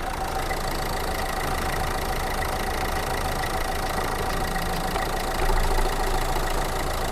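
The diesel engine of a 2010 Renault Laguna idles steadily with a constant rumbling drone and a faint knocking texture, growing slightly louder and deeper toward the end.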